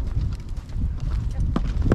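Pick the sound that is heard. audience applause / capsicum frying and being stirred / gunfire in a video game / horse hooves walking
horse hooves walking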